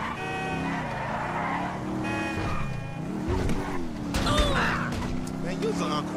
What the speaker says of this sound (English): That's a monster fucking bike you riding